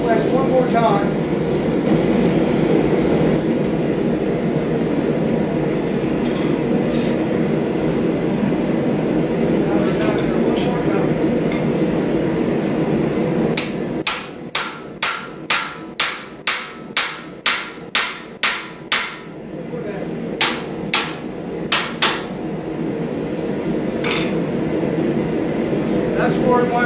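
A hand-forged sleigh bell being hammered down over a wedge, a run of about a dozen sharp, evenly spaced metallic strikes over a steady background roar, with a few more scattered blows afterward.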